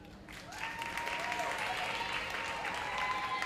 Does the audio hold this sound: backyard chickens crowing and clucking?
no